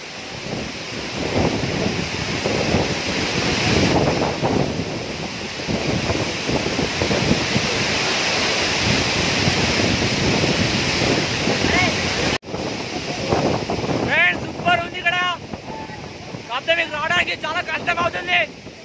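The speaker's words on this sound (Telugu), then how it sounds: "ఫ్రెండ్స్ ఇది గుండాల జలపాతం" Steady roar of rushing water at Gundala waterfall near Dandepelli mandal, Mancherial, Telangana, loud and continuous with wind buffeting the microphone; a voice speaks briefly near the end.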